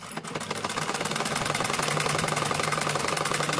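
Sewing machine running steadily, stitching stretched elastic onto palazzo pants; a fast, even mechanical whir with a rapid needle rhythm, close and continuous throughout.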